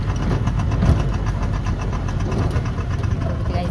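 An auto rickshaw engine runs close by with a steady, rough idle rumble and a faint rattle throughout, while people talk over it.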